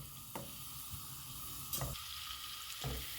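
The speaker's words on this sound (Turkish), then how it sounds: "Margarinimizi güzelce eritiyoruz." Steady sizzling and crackling of margarine melting in a pot on the stove, with a few soft scraping stirs breaking through at intervals.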